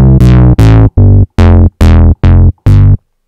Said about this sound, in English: I've got this monotone bass on the Bassszilla preset.